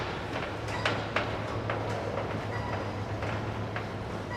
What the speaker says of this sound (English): that's the last train